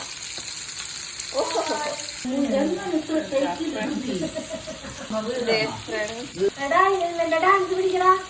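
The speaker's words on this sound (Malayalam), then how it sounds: "The chicken is now frying." Chicken frying in a pan, a soft sizzle running under a voice speaking over it for most of the stretch.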